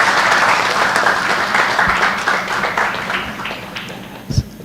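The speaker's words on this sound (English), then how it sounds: "give a big round of applause here" Audience applause at a chartered accountancy students' debate competition finale, a dense, steady wash of clapping from a sizeable crowd that holds for several seconds before thinning, with a couple of sharper claps near the end.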